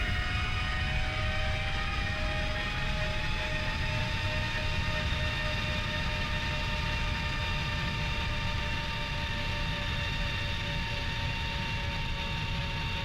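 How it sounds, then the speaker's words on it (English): A fighter jet engine in the Strike Fighters 2 flight sim runs at full takeoff power with a steady, dense roar and high whining tones that slowly shift in pitch, continuous and loud from start to end. "We've got permission from the tower for takeoff,"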